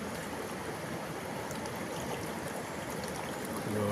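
The flooded Punnappuzha river, swollen after heavy rain, rushes with a steady broadband roar of flowing water, fairly faint and constant with no talk.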